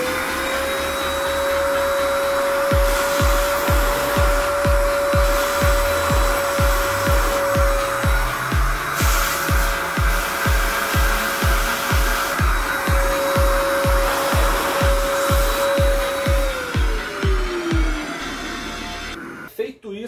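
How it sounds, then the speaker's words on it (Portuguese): A vacuum cleaner sucking dust from the vents of a PS5 console with its side panels removed, a loud steady whine running close throughout and pulsing in a fast regular rhythm as the nozzle works. "vamos aproveitar e botar a mão na massa com um aspirador"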